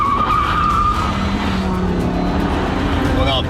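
A Ford car skids with its wheels locked up, a loud, continuous tire squeal and engine roar that lasts for the whole stretch, with voices partly over it.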